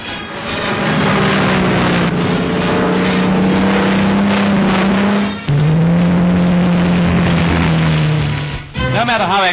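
Spitfire aircraft engine during its flight test, a loud steady propeller drone with a sustained low hum that shifts pitch slightly midway, continuous throughout.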